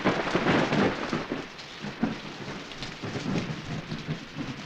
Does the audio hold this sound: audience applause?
no